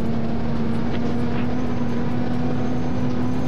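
Toyota Supra engine running in sport mode in the Drive Island driving game, a steady loud drone with a constant tonal hum, continuous for the whole stretch with no talking.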